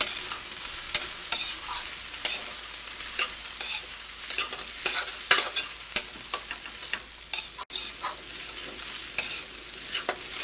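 Restaurant-style fried rice being stirred and tossed in a pan, with steady sizzling and frequent sharp scrapes and clinks of the spatula against the metal, close and busy throughout.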